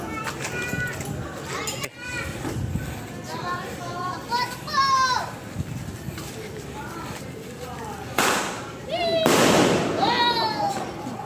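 A Thunder firecracker from a DIY egg bomb bursts with a loud sharp crack late on, over a busy outdoor scene of children shouting and chattering and whistling fireworks or noisemakers.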